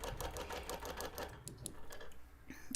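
A BERNINA Q-Matic computerized quilting machine stitching a quilt perimeter, its rapid, steady needle clatter running continuously at close range with no voices.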